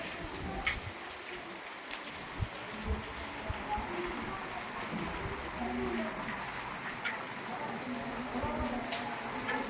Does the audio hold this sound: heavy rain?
yes